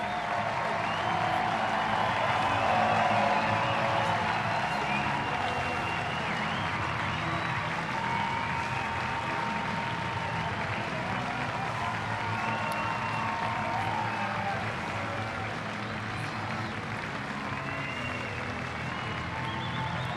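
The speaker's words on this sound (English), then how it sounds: "listen to this crowd" A ballpark crowd roars and applauds at length for a pitcher's dominant strikeout outing, a continuous distant wall of cheering and clapping that slowly eases after about fifteen seconds.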